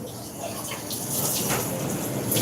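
Water runs steadily from a tap in a busy work kitchen while a dirty food item is rinsed under the stream, a continuous broadband splash with no talk over it.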